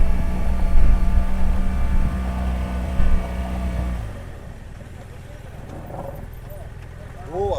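An off-road motorcycle running on wet, rain-slicked grass while braking, its engine drone strong for a few seconds and then cutting out, leaving quieter rustling and faint sounds.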